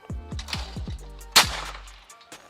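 A Mossberg sub-gauge shotgun, an SA20 or SA410, fires a single sharp shot at a clay target outdoors. The crack is loud and close and follows a few dull low thumps.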